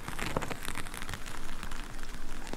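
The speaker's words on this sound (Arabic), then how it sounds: "أقدر أودي الحين صوت المطر جاي من جهة اليسار، أبي أحوله جهة اليمين" Steady rain pattering on a surface, panned with spatial audio so it shifts from the left side toward the right, a dense continuous hiss with scattered droplet ticks throughout.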